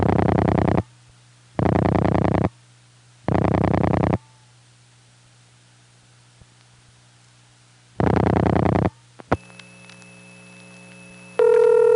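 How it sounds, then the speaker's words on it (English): Unbalanced ring on a call to a disconnected number through a 1979 Bell electronic switching office in Raleigh: four long, loud buzzing ring bursts with silent gaps, then a short chirp and a switch to steady tones. "We're going to call a non-working number in the ESS in this building, and you'll notice that it's very unbalanced during the ring"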